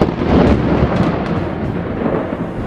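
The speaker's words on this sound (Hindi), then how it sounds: "बादल गरजने लगे, हवा जोरों शोर से चलने लगी और तेज बारिश भी शुरू हो गई।" Thunder rumbling during a storm, a deep continuous roll that swells early and then slowly fades, loud and close, with no voices.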